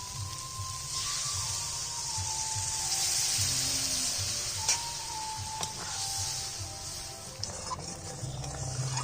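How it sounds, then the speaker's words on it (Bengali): Potato and spice masala sizzles steadily in a pan as water goes in, giving a continuous hiss with a low bubbling churn underneath, close and fairly loud, with no talking. "আলুর সঙ্গে মশলাটা ভালো করে কষিয়ে নিয়েছি এবার আমি দিয়ে দেবো জল"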